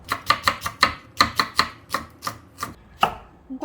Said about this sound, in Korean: 양파도 이렇게 채썰어 주세요. 양파는 조금 얇게 쓰는 게 좋아요.